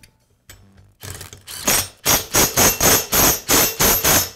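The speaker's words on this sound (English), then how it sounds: "Now I'll reinstall the flywheel and the impeller hub." Reinstalling the flywheel and impeller hub on an Echo blower brings a few soft clicks, then a loud, evenly spaced series of about nine mechanical strikes or ratchet-like bursts, close and insistent, with no talking.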